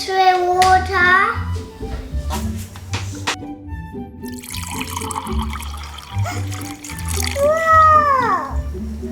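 Cordial is mixed with water for watermelon jelly, with splashing and swirling liquid sounds close by as someone talks excitedly over the top and squeals near the end.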